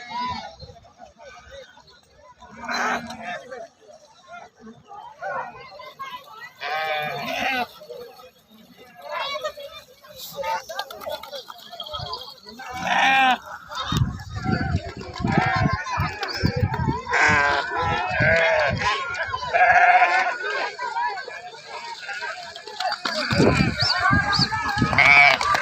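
A flock of sheep bleats repeatedly, many overlapping calls near and far rising in density over the stretch, with someone talking throughout.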